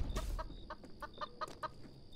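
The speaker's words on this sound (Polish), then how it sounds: "Zamknij mordę, kurczak." Chicken in a Polish video game about stealing chickens, clucking in a string of short repeated bursts at a fairly steady rhythm, close and alone with no talk over it.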